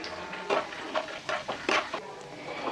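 Roasted gram (pottukadalai) frying in oil in a pan, a soft background sizzle broken by several sharp scrapes and clinks of a spoon stirring against the metal, fairly quiet and close.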